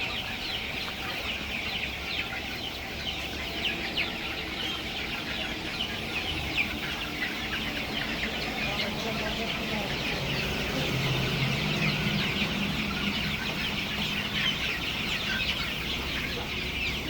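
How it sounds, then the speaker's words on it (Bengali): Chickens on a poultry farm cluck and murmur in a low, busy chorus over a steady background hum, with scattered close calls through the whole stretch and no one speaking. "মুরগিগুলো অনেক সুন্দর হয়েছে"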